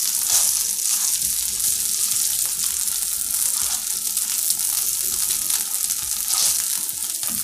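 Rava dosa batter studded with dry fruits sizzles in a teaspoon of ghee on a hot pan, a loud, steady frying crackle that runs throughout with no talking.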